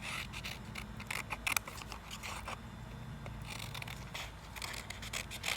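Scissors snipping through paper to cut out a simple drawn circle shape for a kids' craft, with a run of close, crisp cuts and small paper rustles, no talking.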